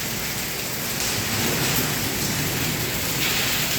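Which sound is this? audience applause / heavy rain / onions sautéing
heavy rain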